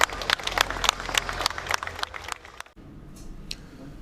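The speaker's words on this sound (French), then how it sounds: "Des applaudissements nourris de ses confrères avocats saluent sa mémoire" Lawyers applaud at a funeral procession, a burst of dense clapping for about two and a half seconds that then breaks off, leaving a quiet crowd murmur with a few scattered claps.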